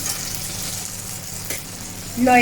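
Spices hit hot oil in a pan of masala for an okra fry and chicken dish, with Kashmiri chilli powder going in, giving a steady close sizzle that swells louder near the end.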